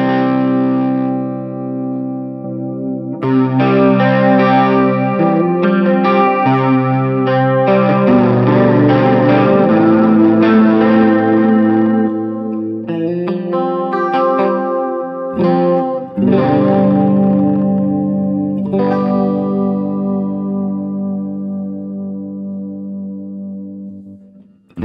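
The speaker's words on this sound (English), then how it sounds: "Let's try that out just so you can hear the stereo effect." Guitar played through the stereo chorus effect of a NUX Mighty Air wireless stereo practice amp: sustained chords and single notes with a lush, shimmering modulation. The playing is loud and continuous, with brief pauses between phrases and no talking.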